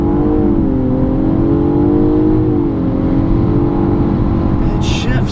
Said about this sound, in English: I'm gonna try to do a little brake torque launch